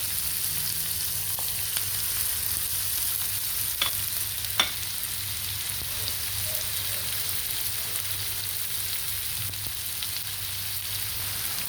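Onions with a pinch of asafoetida stir-fry in a pan toward a reddish color, a steady close sizzle with soft stirring scrapes and a couple of brief clinks, no voices.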